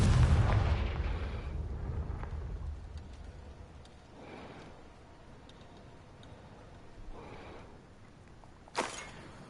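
A Confringo fire spell explodes in the Hogwarts Legacy video game: a loud opening boom that fades into a rumbling tail, followed by softer whooshes and a sharp crack near the end.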